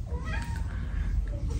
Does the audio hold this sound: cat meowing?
yes